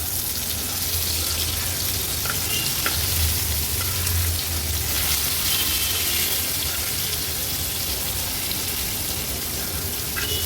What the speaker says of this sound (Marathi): पुन्हा ह्या तुकड्या आपण मागच्या बाजूनी पण व्यवस्थित तळून घेतल्या आहेत।